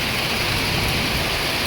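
Heavy rainfall in Kathmandu makes a loud, unbroken wash of noise, close and constant for a short stretch with no voices.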